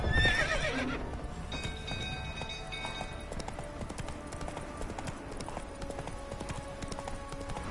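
Roach, a horse in The Witcher 3, gallops with steady, close clip-clop hoofbeats, opening with a brief neigh over a busy game soundscape of ambient music and background noise.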